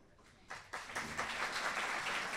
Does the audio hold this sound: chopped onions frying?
no